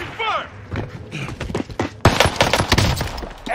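Rapid gunfire bursts and impact thuds in the Warzone video game, dense and loud, interleaved with in-game voice callouts and speech throughout.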